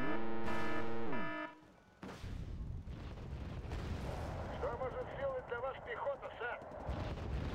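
Mortar artillery fire in the real-time strategy game Wargame: Red Dragon, rumbling booms and scattered gunfire under a busy battle mix, after a brief tonal game alert at the start.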